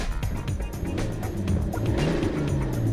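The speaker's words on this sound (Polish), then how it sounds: "Proszę bardzo, dźwięk silnika." The BMW 640d Gran Coupé's six-cylinder diesel drones steadily on a highway, a low continuous engine hum mixed with road and wind noise, growing a little louder.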